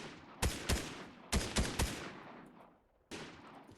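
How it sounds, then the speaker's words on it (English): Ranger Assault Rifle firing in Fortnite, heard as single loud, punchy shots with ringing tails, first two pairs, then a quick three, then one more after a short pause. "here's the Ranger Assault Rifle. Just came out in Chapter 3."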